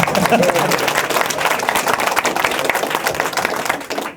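Dense, steady audience clapping from a crowd at a city of Newark announcement on homeless services, filling the space loudly and evenly for several seconds before tapering slightly at the end.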